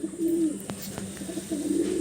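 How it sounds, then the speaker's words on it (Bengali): A female pigeon from an Andhra Pradesh loft coos twice, soft, low rolling calls close by with a brief tapping pause between them. "এটা হচ্ছে মাদি পায়রা"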